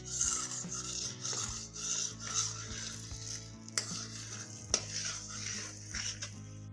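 Semolina being roasted in a pan is stirred with a continuous dry scraping and rasping over a steady hiss, with a few sharp clinks of the spoon against the pan, close and moderately loud.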